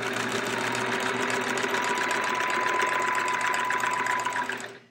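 A sewing machine stitching a quilt runs continuously at a steady, fast, buzzing rhythm, close and loud, then stops abruptly at the end.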